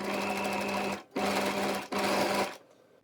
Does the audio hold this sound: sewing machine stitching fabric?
yes